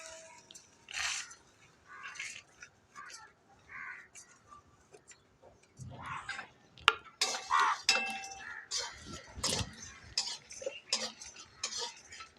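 Whole coriander, cumin, black pepper and garam masala tossed into a pan with dried chillies for paneer bhurji, quiet sparse clinks and scrapes of a spoon stirring, with faint intermittent sizzle and ticking.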